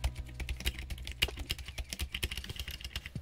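Rapid typing on a Redragon K530 Draconic Pro SE 60% mechanical keyboard with silent switches, PBT keycaps and a steel plate, giving dense, close, steady keystroke clatter with no voices.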